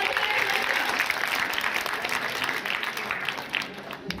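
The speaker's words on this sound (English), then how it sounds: "ladies and gentlemen, have a big round of applause for Dr." An audience at a school annual day applauds a guest with a broad, sustained round of clapping that stays strong before easing slightly near the end.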